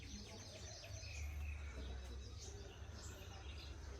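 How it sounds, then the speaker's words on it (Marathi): Sparrows chirp faintly in the background at a rural home, small scattered tweets over a steady low rumble with no talk. "चिमण्यांचा किलबिलाट."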